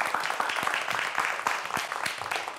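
A lecture audience applauds steadily after a mathematics talk, a dense, even patter of many hands clapping at close range with no pause.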